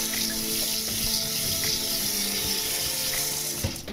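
Rice being rinsed with running water for onigiri, a steady close rush of tap water with swishing and faint grain movement throughout, ending with a small knock, no talking.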